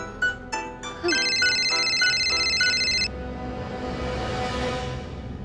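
A phone rings in a tense Hindi TV drama scene; a repeating electronic tone pattern pulses for about three seconds over a bed of background music, then stops as the music carries on.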